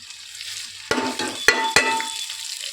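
Mustard seeds and cumin dropped into hot oil with dried red chilies, green chilies and curry leaves, giving a steady close sizzle broken by a few sharp crackles and spoon knocks.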